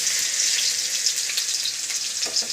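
Small diced potatoes frying in a pan make a steady, fairly loud hiss of sizzling oil that carries evenly through the short stretch with no talk.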